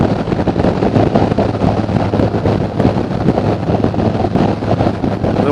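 Steady wind buffeting roars over the microphone on a 2020 Harley-Davidson Softail Standard ride along a highway, a dense constant rush with the motorcycle's engine hum beneath it.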